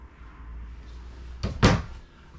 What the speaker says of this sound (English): Barn door for going to the shower area.